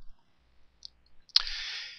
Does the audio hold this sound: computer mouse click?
yes